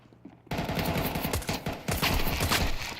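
Rapid Counter-Strike gunfire, Deagle shots among it, erupts after a brief quiet start, a loud, dense string of cracking reports that keeps going to the end with no voices.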